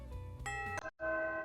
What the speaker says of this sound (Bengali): কলিং বেল বেজে উঠল একবার।